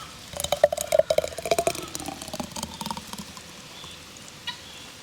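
Homemade turmeric latte mix poured into a clean glass jar, with a run of soft, close glugs and drips that taper off into quiet.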